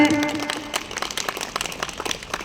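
A crowd claps to welcome a martyr's widow onto the stage at the opening of a volleyball tournament, the scattered clapping building into dense, steady applause over a couple of seconds.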